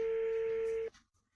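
A WhatsApp call for a family meeting sounds as one steady, fairly loud ringing tone that holds for just under a second and then cuts off abruptly into near silence.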